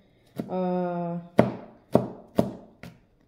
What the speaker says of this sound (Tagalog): Hihiwain lang natin ng maliliit guys.